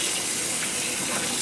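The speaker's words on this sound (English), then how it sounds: "Rinse those beans off." Tap water pours steadily onto canned beans in a colander at a home kitchen sink while making chili, a constant close gushing rush with no pauses.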